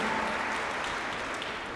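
Children and families at an orchestral concert for kids give a steady, dense round of clapping, continuous and even for the whole short stretch with no voices over it.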